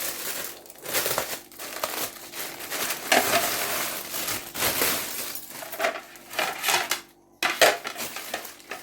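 A set of six black plates is unwrapped and handled, with loud crinkling of plastic packaging and occasional clinks of plates knocking together, in uneven bursts with brief pauses.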